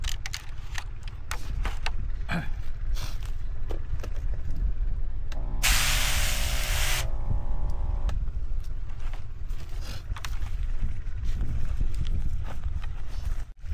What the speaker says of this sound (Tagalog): Pwede sprayan natin. Pa-sprayan mo lang dun sa ano.